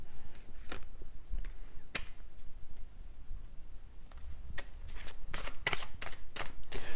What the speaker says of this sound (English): when I shuffled this messages deck, which I'm actually going to use right now